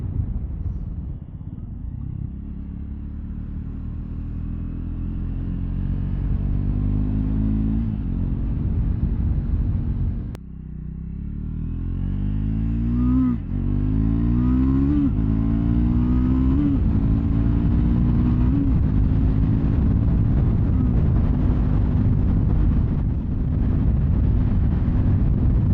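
A 2024 Triumph Scrambler 400X single-cylinder motorcycle engine drones loudly through a ride, rising and falling in pitch as it revs up through the gears in repeated surges, with a brief dip near the middle.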